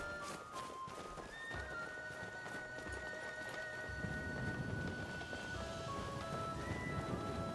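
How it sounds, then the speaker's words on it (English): Horse hooves clip-clop in the video game Skyrim, a faint steady trotting beat under rumbling rain and thunder-like ambience and a sustained musical tone. "I think we should stay out of this horse's way, Inigo."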